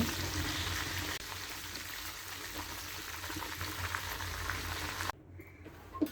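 Sugar sizzles in hot oil and ghee in a pan, a steady close crackling hiss that runs on evenly before dropping suddenly quieter near the end.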